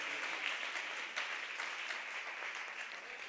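A church congregation in Pasaquijuyup applauds during a sermon, a dense, even wash of many hands clapping that holds steady and tapers slightly toward the end.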